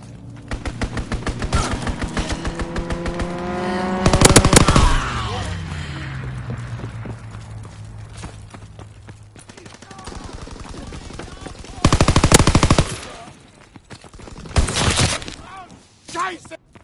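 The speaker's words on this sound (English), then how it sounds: "Fighter pilot inbound, strafing the target." Fighter plane in Call of Duty WW2 strafing with machine guns: long rapid bursts of automatic fire with loud sharp bursts of shots, over a droning engine and game voices.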